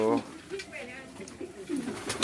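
Pigeons coo softly and repeatedly while they are fed, the calls close and overlapping, with a human voice briefly mixed in.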